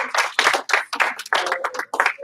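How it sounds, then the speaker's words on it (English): A group of children at a karate class claps in quick bursts, several sharp rounds of hand claps close by, loud and rhythmic with short gaps between them. "Give him 1 clap, 2 claps."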